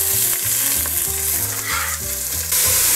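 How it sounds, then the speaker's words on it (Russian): Steady, loud sizzling of vegetables frying in oil, a continuous crackling hiss with occasional stirring sounds and no voices. "Поджариваем овощи для приятного такого золотистого оттенка."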